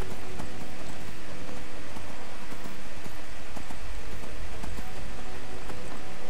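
Horse hooves gallop steadily in Skyrim, a dense, continuous clip-clop of a ridden mount close up, loud and unbroken with no talk over it.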